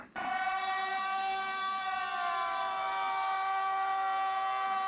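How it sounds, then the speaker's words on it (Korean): A loud electronic police siren wails continuously from the small speaker of a Tank 3 Pro rugged phone, its steady multi-tone pitch sliding slightly, with no voices. "자, 그러면 한번 경찰 사이렌으로 한번 해보겠습니다."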